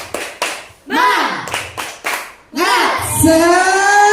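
A group, likely schoolchildren in a classroom, claps a rhythmic spirit-clap routine: short bursts of several claps separated by brief pauses, ending in a sustained vocal chant. Children's voices call out between the bursts.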